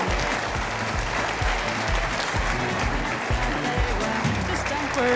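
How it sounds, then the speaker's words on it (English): An entrepreneurs' gathering at The Platform Africa applauds after a closing song, a thick, sustained wash of clapping that stays loud throughout, mixed with low rumbling crowd noise and possible chatter underneath. "A further round of applause."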